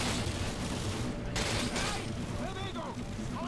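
Sustained gunfire in Call of Duty Modern Warfare 2, a dense continuous clatter of shots under game noise, with someone talking over it.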